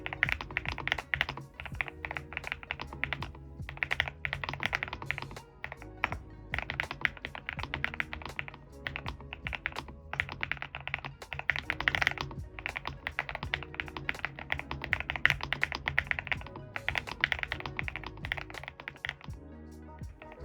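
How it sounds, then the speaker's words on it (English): Continuous rapid clacking of a NuPhy Halo75 V2 mechanical keyboard with raspberry switches, keys tapped in quick uneven bursts, close and fairly quiet with no talking. "The keyboard sounds amazing with the raspberry switches."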